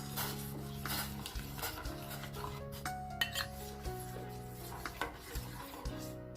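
A utensil scrapes and stirs around a pot in repeated strokes, with light metallic clinks and a steady background hum.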